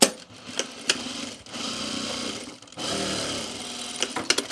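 A sewing machine stitches blazer fabric at normal stitch length, with steady mechanical whirring in bursts and brief pauses, with fabric handling noises between runs.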